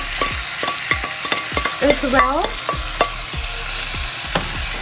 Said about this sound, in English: continue frying until the beef is brown